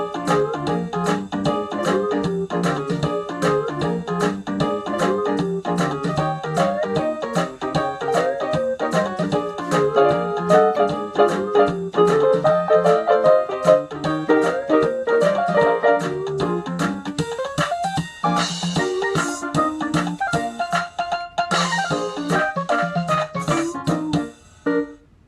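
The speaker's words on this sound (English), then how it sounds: "Now when you do a 7th chord, it sounds like this." Yamaha PSR-48 keyboard rhythm playing a 7th chord accompaniment, a bouncy repeating bass pattern with steady ticking percussion, continuous and fairly loud, shifting to brighter fills near the end before stopping.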